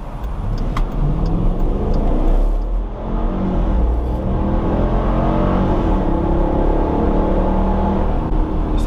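A 2021 Dodge Durango R/T with the 5.7 V8 accelerates hard from 0 to 60, its engine roaring loudly and steadily as it climbs through the gears, heard from inside the cabin.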